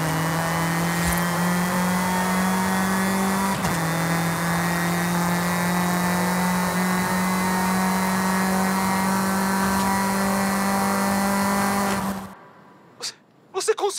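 A car engine in Forza Horizon 5, played on Xbox Series X, holds a loud, sustained drone as the car accelerates. A quick gear-change dip comes early, the pitch creeps upward, and the engine then cuts off abruptly into near silence with a few clicks.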